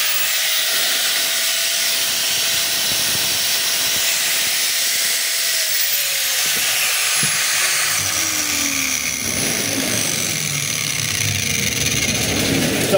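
A DeWalt DW810 4-inch angle grinder with a new cord and a faulty terminal runs steadily on test, its high whine holding loud and continuous, with a brief pitch sweep and some scraping partway through.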